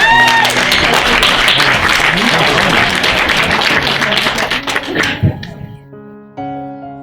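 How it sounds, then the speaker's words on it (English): Wedding guests at a reception give a loud, dense round of applause that holds for about five seconds, then tapers off into scattered claps and a few voices, with a brief thud near the end. "Round of applause."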